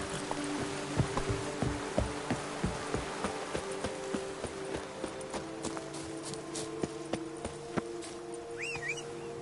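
Hooves of the horse Roach pound in a steady galloping clip-clop rhythm in The Witcher 3, close and continuous over a faint background hum, with no talking.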